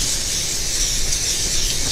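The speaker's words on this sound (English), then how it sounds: "spray olive oil right there" Olive oil sprays from an aerosol can onto dough on a kitchen countertop in a steady, close, unbroken hiss lasting a couple of seconds.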